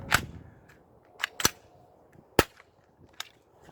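A cheap spring airsoft gun fires sharp, dry snaps outdoors, about four distinct shots spaced irregularly with faint clicks between them, close and crisp.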